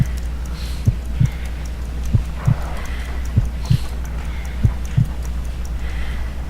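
Heartbeat effect in a Sherlock Holmes detective video game: slow paired thumps repeating at a steady, weak pulse over a low ambient hum, with faint ticking above.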